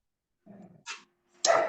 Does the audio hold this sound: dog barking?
yes